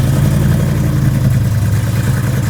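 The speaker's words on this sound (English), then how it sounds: "And an awesome exhaust." A Pontiac Trans Am with a modern exhaust idles with a deep, steady, loud burble, close by and alone.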